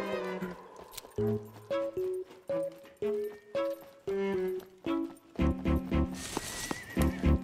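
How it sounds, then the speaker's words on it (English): A horse in the video game Scum neighs and whinnies in a series of sharp, tonal bursts, repeated rhythmically, loud and close, with a brief noisy burst near the end. "I hear a horse."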